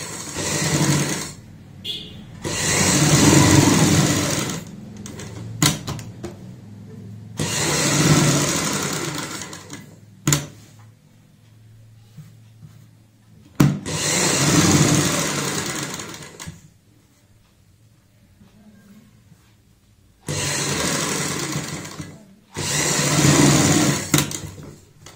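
Sewing machine stitching fabric along a kurti neckline in several bursts of a few seconds each, a close rattling buzz separated by short pauses, with no talking.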